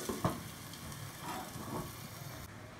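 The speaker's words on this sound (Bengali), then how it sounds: "মাংসটা ফ্রাই হয়ে গেছে, আমি এবার ফ্লেমটা অফ করে দিলাম" Beef sizzles in a hot pan, a soft steady hiss with a few louder spits and stirring noises near the start, cut off abruptly near the end.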